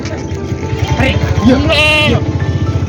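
Goats at a village goat market in Purna, Parbhani district bleat over a steady crowd murmur and nearby chatter, with one louder, drawn-out cry standing out near the middle against the busy background.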